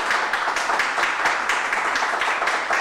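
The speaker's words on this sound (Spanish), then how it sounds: "a ver, un fuerte aplauso" An audience at a Mother's Day tribute evening in Biblián, Ecuador, breaks into loud, dense applause, a steady wash of many hands clapping close by with no voices over it.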